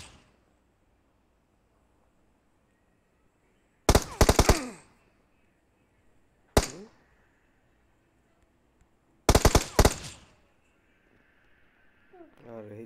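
Gunfire in the Battlegrounds Mobile India mobile game rings out in three sharp bursts: a rapid volley, a single loud shot, then another quick volley, separated by quiet gaps.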